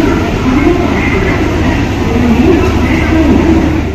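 A train arriving at a platform rumbles loudly and steadily nearby, a constant heavy roar with a busy crowd murmuring underneath.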